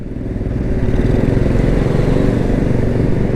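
A Suzuki Address scooter with a full-wave conversion and 11-gram rollers idles with a rough, juddering engine note at low RPM, loud and close, a steady rattling drone with no talking.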